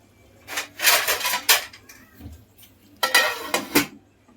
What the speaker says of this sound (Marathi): ह्याच्यावरती आपल्याला झाकण मारायचंय